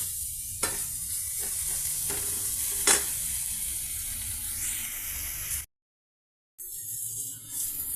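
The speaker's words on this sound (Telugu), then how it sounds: "మన పెద్దలిపాయ పీసెస్ ఆయిల్, ఉప్పు, పసుపు, పచ్చిమిర్చి పీసెస్తో ఈ విధంగా ఫ్రై అవుతున్నాయండి" Onion and green chili pieces with salt and turmeric fry in oil, giving a close, continuous sizzle with a couple of sharp clinks of a stirring spoon, briefly dropping to silence before the sizzling resumes.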